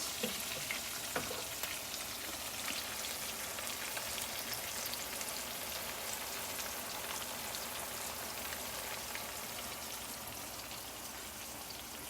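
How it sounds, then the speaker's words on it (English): Salmon cakes sizzle steadily in a hot pan over medium heat, a continuous crackling fry with no talking. "So I'm gonna finish frying these up"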